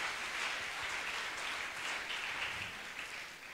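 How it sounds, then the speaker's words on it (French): A congregation applauds at a church service after a sermon, a steady wash of many hands clapping together that holds evenly throughout. "Acclamons très fort pour la parole."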